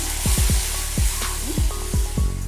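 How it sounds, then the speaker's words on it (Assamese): Thick mustard paste stirred in a hot frying pan, with repeated scraping strokes at an uneven rhythm over a steady background sizzle. "এতিয়া মই ভালকৈ লৰাই দিম"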